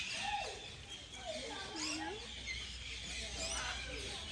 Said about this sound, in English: That's a beautiful bird.